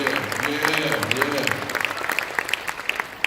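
Crowd applause at a large summit event, starting under a voice speaking and cheering, then settling into a dense spread of many clapping hands filling the hall.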